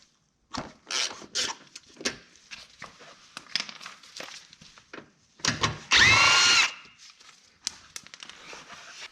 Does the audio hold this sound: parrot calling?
no